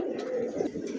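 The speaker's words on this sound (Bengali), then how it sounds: "অরিজিনাল লাহোরি কবুতর দেখেন ইয়েলো কালার মাশাআল্লাহ বিশাল সাইজের" Large yellow Lahori pigeons coo in soft, low, rounded phrases, close by and steady through the short moment, with a faint background murmur.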